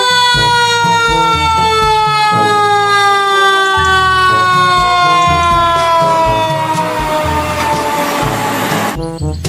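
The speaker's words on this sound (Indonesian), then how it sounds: "Yang ini ada mobil pemadam kebakaran." A toy fire truck's electronic siren wails loud and close in long, repeated falling sweeps, with a rhythmic mechanical backing pattern underneath, then cuts off abruptly near the end.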